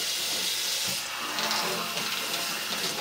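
Tap water runs steadily into a sink as shave soap is rinsed off, a continuous hissing splash heard alone at close range.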